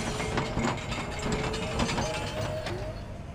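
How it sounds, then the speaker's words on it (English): Power switch mechanism being turned on at a train station in the video game We Happy Few, a steady mechanical clatter with ratcheting clicks, loud and continuous, with no talk. "Let's turn the power on here."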